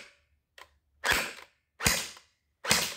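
A Hydro Strike Pulsar Pro gel blaster fires in semi-auto mode, giving three loud, sharp snapping shots spaced roughly a second apart after a faint mechanical click, with no talking.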